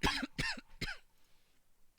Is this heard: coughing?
yes